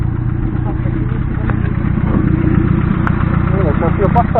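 A ZiF-77 moped engine runs while being ridden, giving a steady, close, buzzing rumble that holds evenly throughout, with faint voices underneath.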